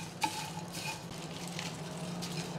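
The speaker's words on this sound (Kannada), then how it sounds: "ಅದೇ ಪ್ಯಾನಲ್ಲಿ ನಾನೀಗ ಹುಣಸೆ ಹಣ್ಣು, ಒಣಮೆಣಸಿನಕಾಯಿ, ಬೆಳ್ಳುಳ್ಳಿ ಹಾಗೆಯೇ ಕರಿಬೇವಿನ ಸೊಪ್ಪನ್ನು ಕೂಡ ಹುರ್ಕೋತೀನಿ" Tamarind, dried chilies, garlic and curry leaves roasting in a pan, a soft continuous sizzle with a single sharp clink near the start and faint stirring scrapes throughout.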